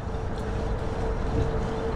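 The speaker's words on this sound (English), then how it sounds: "Windy." Steady wind roars across the microphone outdoors during a ride in Pittsburgh, a constant close buffeting rush with no breaks or other sounds.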